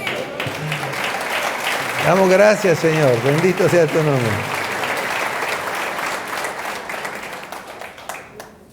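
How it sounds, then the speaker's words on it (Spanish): A church congregation applauds in praise during a Spanish-language service, a loud, dense wash of clapping filling the room while a voice speaks and chants prayerfully over it, the applause slowly thinning toward the end. "denle un aplauso al Señor"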